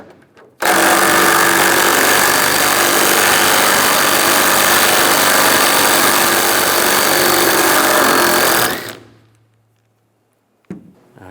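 A power tool with a 13mm socket whirs steadily and loudly for about eight seconds while a bolt is removed from a Chevrolet Silverado tailgate, then winds down to silence.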